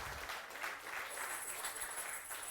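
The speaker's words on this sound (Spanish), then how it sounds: "Dele fuerte palmas al Señor si usted lo entiende" A church congregation claps together in a steady, dense burst, fairly quiet and sustained throughout with no speech over it.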